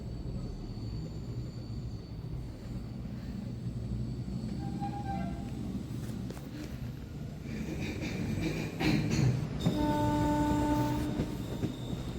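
A train running on the Madurai–Kollam line near Aryankavu, a steady rumble of rolling wagons with rhythmic clatter and a horn blast sounding clearly near the end.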